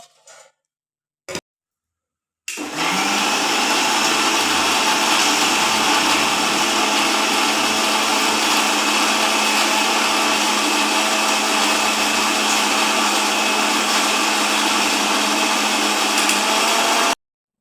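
A kitchen blender whirs steadily while blending mango juice, starting abruptly after a couple of brief clicks and running loud and continuous for about fifteen seconds.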